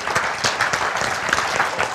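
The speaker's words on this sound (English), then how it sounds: "Can I get a round of applause?" Brief round of applause from an audience at a marketing talk, a short burst of moderately loud clapping with individual claps standing out and no speech.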